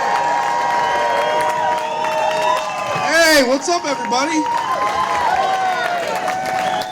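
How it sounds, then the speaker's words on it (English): Fired-up crowd at an anti-Trump veterans rally at the US Capitol cheers and claps loudly throughout, with shouts rising around the middle, while a man greets everyone over the noise. "Man, what a fired up crowd."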